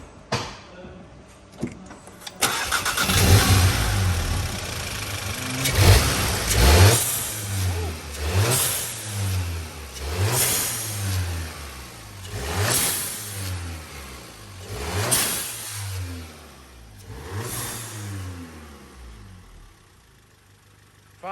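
Audi S1 fitted with a GFB DVX valve, heard close up as the engine starts and idles, then revs repeatedly in rising and falling sweeps about every two and a half seconds.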